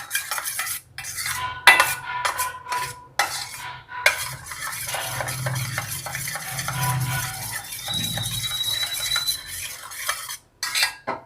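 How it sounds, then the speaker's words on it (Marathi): Eggs whisked in a bowl for a bread omelette, with a fork or spoon clattering fast and rhythmically against the sides in close, loud bursts and brief pauses between them, and no talking. "असं फेटून घ्यायचं व्यवस्थित सगळं"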